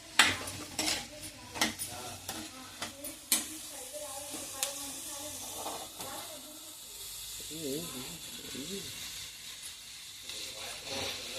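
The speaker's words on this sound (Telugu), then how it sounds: "మంచిగా కలుపుకోవాలా? ఎంతసేపు కలపాలి అట్లా?" A spoon scrapes and clinks against a pan while an egg bhurji mixture is stirred, irregular metallic taps over a soft hiss at close range, and voices talk over the second half.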